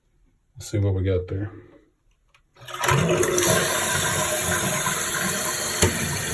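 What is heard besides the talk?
toilet full flush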